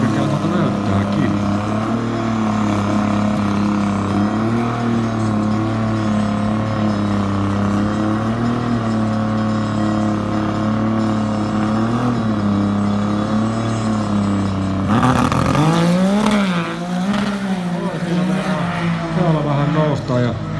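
A snowmobile races down a drag strip in the final at Alastaro, its engine droning loud and steady at high revs, then shifting pitch near the end, with a commentator talking over it.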